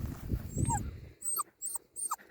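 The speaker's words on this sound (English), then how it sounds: "this is a very beautiful puppy" A puppy on a farm whimpers and yips in a few short, high-pitched bursts at close range, following a brief patch of low rumbling handling noise.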